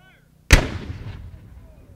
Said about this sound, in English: this is our cannon crew that we actually spoke with yesterday, preparing their gun and getting ready to